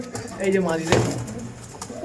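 Domestic pigeon cooing up close, a chatiyal male bird calling with a rolling, throaty coo over a low hum, while someone talks over it.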